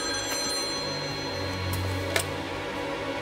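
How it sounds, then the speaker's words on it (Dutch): A telephone rings in a tense indoor scene of a thriller short film, a faint steady ring sitting under a constant hum, with a single click near the end. "Ik heb het over die telefoon die gaat."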